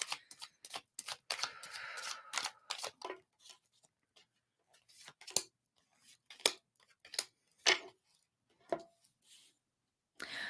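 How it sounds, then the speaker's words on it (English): Tarot cards are shuffled close by in quick flurries of crisp riffles and taps, dense at first, then scattered snaps separated by quiet gaps. "One more shuffle for Aquarius."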